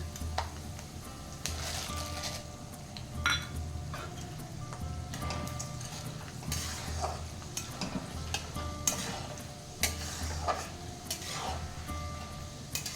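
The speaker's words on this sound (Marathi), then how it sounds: "आता आपण यामध्ये डाळ्या ॲड करूया." Peanuts and roasted dal sizzle faintly in a pan for poha chiwada, broken by repeated scraping stirs and clinks of a spoon against the metal, close by with no talk.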